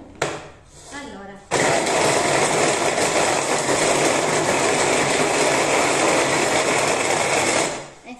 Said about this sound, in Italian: quindi proviamo a frullare adesso